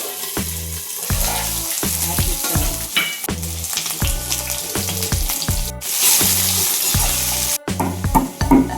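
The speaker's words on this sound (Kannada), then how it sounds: "ಇವಾಗ ಒಂದು ಬಾಣಲಿಗೆ ಎಣ್ಣೆ ಹಾಕೋತಿದ್ದಾರೆ. ಇದನ್ನು ಕ್ಯಾಪ್ಸಿಕಮ್ನ ಫ್ರೈ ಮಾಡ್ಕೊಳ್ಳೋದಕ್ಕೆ." Capsicum frying in oil in a kadai, a loud, steady close sizzle broken by a regular series of heavy, dull thuds, with no talking.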